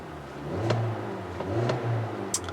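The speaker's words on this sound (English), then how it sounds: "you're hearing the one engine choice for the SE and Limited. It's a 2-liter 4-cylinder engine." A 2017 Hyundai Elantra's 2-liter 4-cylinder engine hums at a steady idle with a couple of light revs, close by, and no voices.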